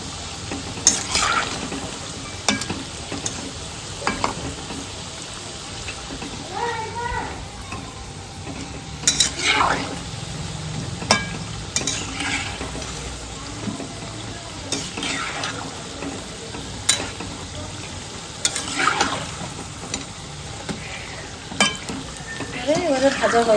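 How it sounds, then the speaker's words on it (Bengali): Satpuri pitha, a layered Bengali pastry, fries in hot oil with a steady sizzle, while a utensil scrapes and clinks against the pan at irregular intervals, close and moderately loud. "বন্ধুরা তেল গরম হয়ে গেছে, এবারে একটা একটা করে তার ভিতরে ছেড়ে দিব"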